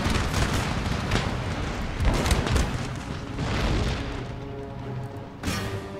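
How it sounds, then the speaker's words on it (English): Musket volley fired at point blank range in Empire: Total War, a loud dense crackle of many shots over booming battle noise, with repeated bursts across the stretch. "Firing a volley at point blank range"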